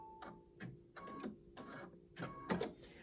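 An embroidery machine stitching an applique placement stitch for quilting: quiet, close rhythmic mechanical clatter in short bursts of rapid ticking, with brief pauses between runs.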